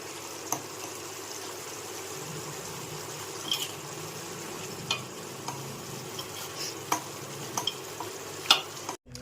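Vegetables for undhiyu, including peas, val beans, pigeon peas, papdi beans, eggplant and purple yam, stirred in a pot with a soft steady sizzle and scattered clinks of the spoon, no voices.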